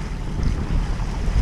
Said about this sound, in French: Bon, bah, nous sommes sous voile,